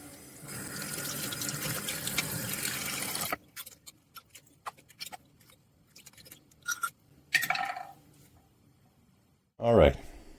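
Tap water runs steadily for a few seconds while an eyedropper pen is rinsed, then stops, followed by scattered drips, clinks and handling sounds close by, with a final short burst of water.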